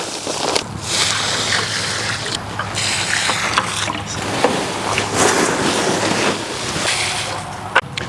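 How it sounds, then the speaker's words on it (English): Water being poured onto newly planted trees in a yard, a steady close splashing and rushing with a few brief interruptions and knocks. "We're going to water each of them, mulch them, water them again"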